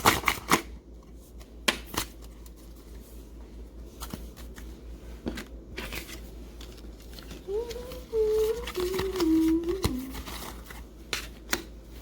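Tarot cards being shuffled by hand at close range in quick riffling bursts, with a faint tonal voice-like sound rising briefly in the middle.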